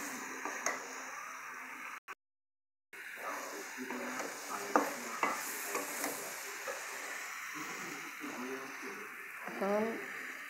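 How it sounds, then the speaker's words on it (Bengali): Tomatoes are stirred and fried in a pan, giving a steady sizzle with scraping stir strokes, briefly cut to silence near the start, while a person talks over the cooking. "এখন এই টমেটোগুলো দিয়ে দেবো। কষানো হয়ে গেলে ঝোল দেবো কিছু সময় পর।"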